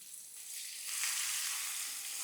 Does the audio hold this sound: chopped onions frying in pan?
yes